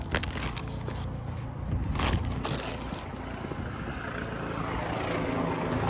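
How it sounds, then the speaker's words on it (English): A helicopter flies overhead, its steady engine and rotor roar loud and continuous, swelling slightly as it passes, with no speech. "Excuse the helicopter."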